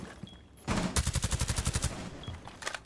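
Rapid automatic gunfire from a console first-person shooter, a burst of about a dozen loud evenly spaced shots lasting roughly a second, followed by fainter scattered shots.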